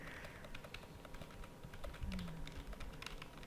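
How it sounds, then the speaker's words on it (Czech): Rapid, uneven typing on a computer keyboard, a steady patter of small key clicks running throughout at close range with faint background noise. "omlouvám se za to, že uslyšíte trošku klepaní na klávesnice"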